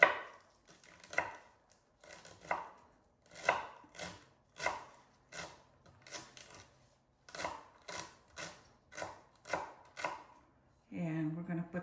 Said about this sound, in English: So I have 2 stalks of celery that I'm cutting up here.